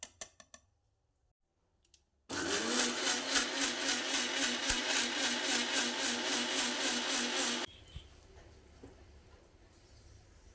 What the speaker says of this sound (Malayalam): അത് നമ്മളെടുത്തിട്ട് മിക്സിയിൽ അടിക്കാനായിട്ട് ജാറിലിട്ടിട്ടുണ്ട്